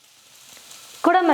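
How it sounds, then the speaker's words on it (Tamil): Capsicum and onion hit a hot pan on high flame for sautéing, giving a soft low sizzle that jumps into a loud, close frying hiss in the final moments, with no talking. "குடமிளகாய், வெங்காயத்தை சேர்த்து ஸ்டவ்வை ஃபுல்லாக வச்சுட்டு 2 நிமிஷம் வதக்கினா போதும்"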